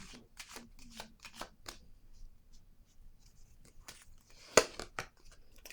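Playing cards for a board game are handled and shuffled close by, quick crisp flicks and riffles, then quiet with faint rustles and a sharp snap near the end.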